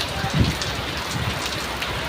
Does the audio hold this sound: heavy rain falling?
yes